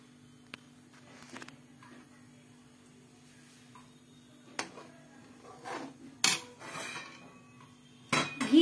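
Pan set on a stove to heat Amul ghee in a home kitchen, with scattered metallic clanks and scrapes of cookware and utensils over a low hum, close and intermittent without talk.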